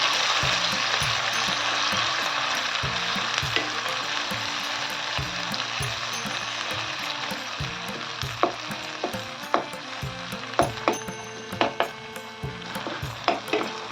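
Masala gravy fries in a pan with a dense, continuous hiss and sizzle close by, joined in the second half by sharp clinks and scrapes of a spoon stirring against the metal. No one talks.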